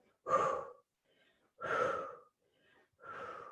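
Three forceful breaths pushed out hard through the mouth during a glute workout, each about half a second long and separated by short silences, close and breathy.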